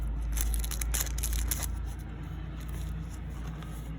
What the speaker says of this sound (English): it makes such a good crinkly paper sound